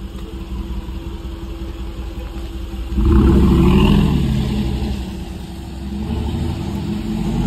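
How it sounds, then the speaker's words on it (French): An older BMW 8 Series passes on a street in Beaune, its engine rising from a steady background rumble to a loud, close swell, then easing away into traffic hum. "Je vous la filme parce que c'est assez rare, hein, BMW série 8."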